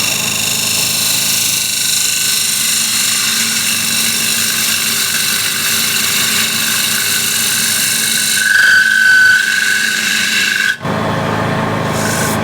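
Spindle gouge cutting a wooden bowl on a lathe, a steady close rasping scrape running throughout with a brief higher squeal near the end and a sharp break just before the cut resumes.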